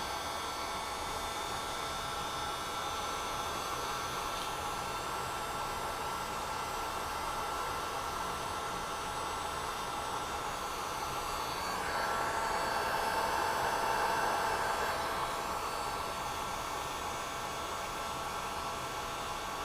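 A heat gun blows hot air steadily onto a GM TPMS sensor housing to soften it, giving a continuous close hiss that swells briefly louder partway through, with no talking.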